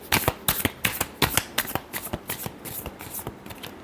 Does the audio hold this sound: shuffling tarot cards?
yes